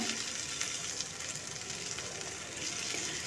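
Chili flakes, ginger, garlic and crushed green chili paste sizzle in hot oil in a pan, a steady, fairly quiet frying hiss that continues evenly without interruption.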